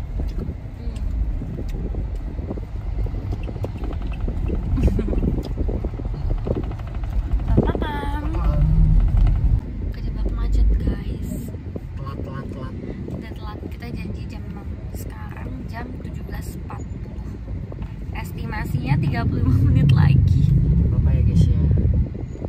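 Traffic crawling in a heavy jam, a steady low rumble of engines with passing vehicles swelling louder at times, while people talk over it nearby.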